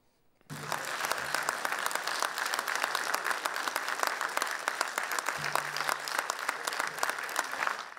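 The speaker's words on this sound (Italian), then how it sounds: "Questo è l'applauso con cui l'Assemblea civica ha salutato l'elezione di Nicola Paolino a presidente del Consiglio Comunale di Isernia" Applause from a city council assembly in Isernia greeting the election of council president Nicola Paolino, a dense, sustained round of many hands clapping that starts abruptly after a brief silence and stays steady and loud throughout.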